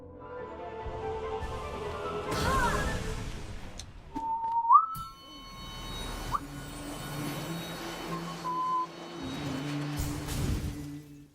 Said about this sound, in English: I don't think I've ever listened back to hear how whistling gets picked up